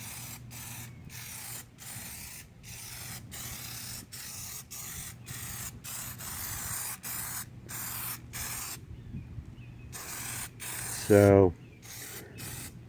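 Aerosol can spraying Plasti Dip onto a car grille in repeated short, sharp hisses with a steady rhythm, close by, followed by a brief pause and a short spoken word near the end.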